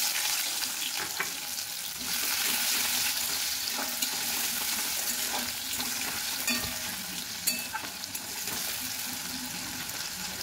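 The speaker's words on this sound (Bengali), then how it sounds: "পেঁয়াজটা একটু লাল লাল করে ভেজে নিতে হবে।" Onion sizzles steadily in hot oil with a tempering of cumin seeds, a bay leaf and a dried red chilli, with occasional stirring scrapes through a continuous, fairly close frying hiss.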